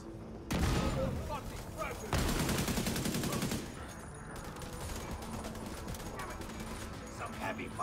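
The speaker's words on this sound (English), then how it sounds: "Some heavy fire." Heavy gunfire in the video game The Division 2 comes as dense, loud volleys of automatic fire that continue under a steady battle rumble, with voices speaking over the shooting.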